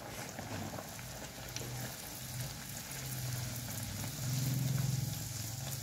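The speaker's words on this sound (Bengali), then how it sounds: "চলুন এবার ভেজে নিই।" Pea-stuffed kachori frying in hot oil in a village-style Bengali kitchen, a steady low sizzle and bubbling that swells louder toward the end, with no talking.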